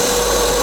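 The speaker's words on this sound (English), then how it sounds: "we can drill them out and mount them" A power drill bores pilot holes for toggle switches, a steady, loud, continuous whine and grind filling the whole short stretch with no pauses.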